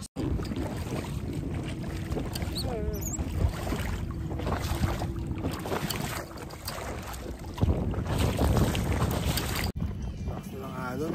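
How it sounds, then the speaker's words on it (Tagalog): Strong waves slap around a kayak on Manila Bay, with constant wind buffeting the microphone, water splashes and occasional voices talking over the rough, noisy wash. "Lakas na lang alon."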